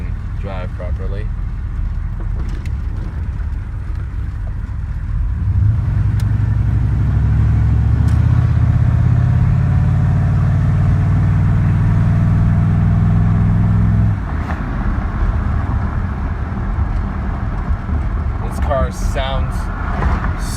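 A 1993 Chevy 1500 turbo diesel truck driving, its engine droning steadily from inside the cab, swelling to a louder low rumble under acceleration for several seconds before settling back to a cruising hum.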